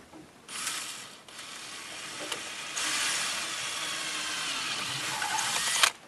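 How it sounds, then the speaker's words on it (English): A power drill bores a hole in a car panel to mount a flashing LED fake car alarm light, a whirring motor in short bursts with a brief pause, then a longer steady run ending in a sharp catch. "I'm going to go ahead and drill"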